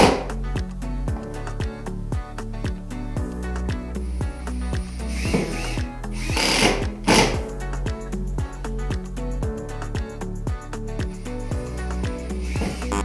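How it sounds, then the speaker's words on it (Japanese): A HiKOKI 36DC impact driver drives thin screws, giving a loud, rapid hammering rattle of impacts in repeated bursts with brief pauses between them. "それではまず従来機の 36DC で打ち込みをしていきたいと思います。"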